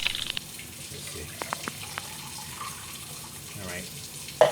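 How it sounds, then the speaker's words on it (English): Tap water runs into a portable rechargeable blender jar already holding ice cubes, a steady splashing stream with a few light clinks, ending in a sharper knock. "I'm gonna get some water. Fill it up maybe."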